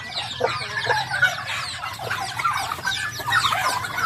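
Backyard farm chickens cluck steadily in a close, busy chorus of overlapping calls, with a low hum underneath and no talking.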